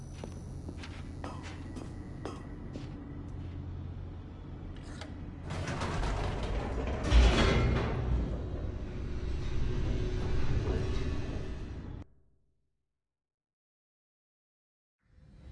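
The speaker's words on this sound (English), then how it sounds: "The elevator raced downward, plummeting towards an unknown fate." An elevator descends in The Stanley Parable Ultra Deluxe: a steady mechanical rumble with creaks and clanks swells louder midway and carries on until it cuts to sudden silence near the end.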